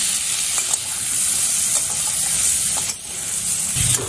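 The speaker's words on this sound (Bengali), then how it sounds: "আরও 2-3 মিনিট আমি পটলগুলো একটু ভাজা ভাজা করে নিয়েছি" Pointed gourd pieces fry with turmeric in a pan over medium flame, a loud close continuous sizzle and spatter broken by a few scraping stirs, with no talking.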